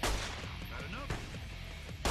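Gunshots in the video game Fallout: New Vegas ring out near and loud, with a sharp blast at the start, another midway and a third at the end, over a dense, noisy game background.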